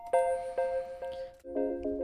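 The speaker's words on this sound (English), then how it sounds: "another like top bell I added, and that one is with a 3rd delay" Synth bell sample in a Nintendo Wii style track, bright pitched chimes struck in a bouncy rhythm with triplet delay echoes trailing each hit, then a lower bell chord near the end, clear and upfront.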